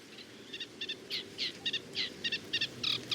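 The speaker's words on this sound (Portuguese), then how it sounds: "O roxinol pequeno dos caniços tem o canto mais elaborado e nesta época ouve-se por todo o caniçal." A Eurasian reed warbler sings from a reed bed in a lagoon wetland, giving a chattering series of short, repeated chirpy notes in uneven rhythm, fairly faint but clear over soft background hiss.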